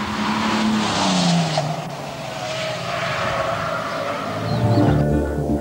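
A Bentley on a handling circuit during a track test, its engine a steady, fairly loud drone with gentle changes in pitch as it drives around the course.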